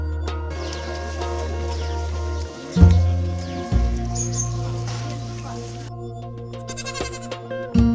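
Goats bleat on a village farm, with a few short, wavering calls standing out over a steady low hum and background chatter.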